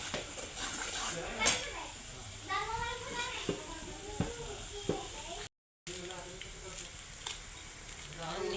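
Food fries in a pan as chili powder is added, giving a soft, steady sizzling hiss that runs beneath a woman's close, ongoing talk, with a couple of brief clinks and a short dropout.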